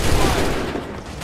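Musket volley fire from a line of soldiers in the Assassin's Creed 3 video game, a dense, loud burst of overlapping gunshots that rolls and fades over about a second.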